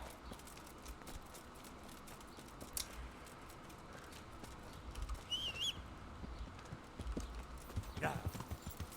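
Steady clip-clop of horse hooves trotting throughout in Kingdom Come: Deliverance, with game ambience, a brief bird call and a voice talking over it.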